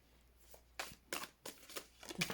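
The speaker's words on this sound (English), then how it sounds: "These cards are so hard to shuffle." Oracle cards being shuffled by hand during a reading, a series of short papery riffles and slaps in uneven bursts, close and fairly quiet against a still room.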